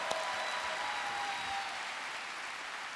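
Audience clapping at a Star Wars Celebration convention panel forms a steady, even roar of applause across the whole stretch, fairly distant and uniform, slowly easing slightly toward the end.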